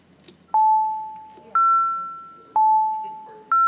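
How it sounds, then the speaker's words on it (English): Electronic bell chimes ring for a recorded vote in a city council chamber, four separate ding tones alternating between two pitches about a second apart, each loud and slowly fading in a quiet room. "you want to ring the bells?"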